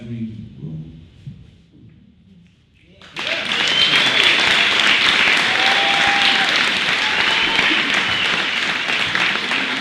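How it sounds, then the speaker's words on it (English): Loud, sustained applause from a crowd at a comedy and poetry show, starting abruptly after a short quieter stretch and continuing steadily to the end. "Everybody give a huge, huge round of applause."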